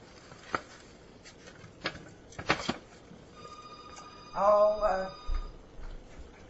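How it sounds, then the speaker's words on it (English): A telephone rings in a home kitchen during crockpot rib cooking: a short run of bright, even electronic ringing tones, fairly close, after scattered knocks and clatter. "Got a phone ringing, and I'll be right back"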